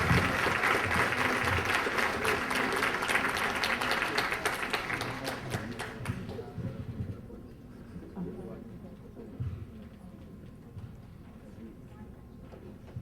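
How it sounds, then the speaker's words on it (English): Audience applause at a community activist of the year award ceremony, a dense roar of clapping for the first six seconds that then fades to sparse scattered claps and room murmur. "Another round of applause, please."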